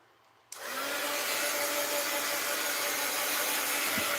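A heat tool or dryer switches on abruptly and blows a steady, loud whirring hum while drying a mixed-media art journal page.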